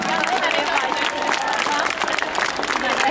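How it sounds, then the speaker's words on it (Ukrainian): Audience at a charity event applauds steadily in thanks, a dense continuous clapping with crowd noise throughout. "Тож давайте зараз подякуємо їм оплесками за ідею та її втілення."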